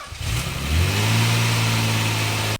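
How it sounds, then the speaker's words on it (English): A Nissan 300ZX Z32 with a twin turbo conversion cranks and fires up for its first start. It settles straight into a loud, steady idle close by, with no talking. "I'll throw a clip of the car starting"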